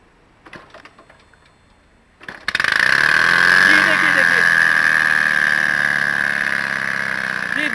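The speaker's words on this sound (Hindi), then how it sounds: "देखा आपने देखा कि गाड़ी किस तरीके से चालू हो गई है, सिर्फ एयर के प्रेशर से शुरू हो गई है।" A vehicle engine started by compressed air catches abruptly after a quiet moment and settles into a loud, steady idle with a ticking mechanical rhythm; brief voices are heard before it fires.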